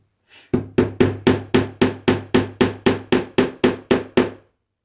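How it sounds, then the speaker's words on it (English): A hammer drives a wall hanger into place for a Christmas tree, striking about fourteen loud, evenly spaced blows in close succession after a faint initial tap. "Sorry guys if that hammering is extremely loud."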